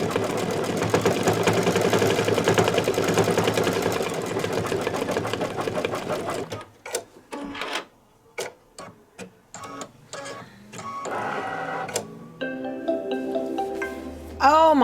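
An embroidery machine stitches out Santa's nose on a table runner, whirring loudly and steadily up close for several seconds, then falling to intermittent clicks, taps and short motor bursts as it slows and stops.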